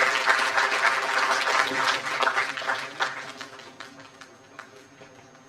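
An audience claps to welcome a guest speaker: dense applause, loud at first, then thinning out and fading to a few scattered claps by the end.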